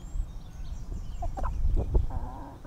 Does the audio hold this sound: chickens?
yes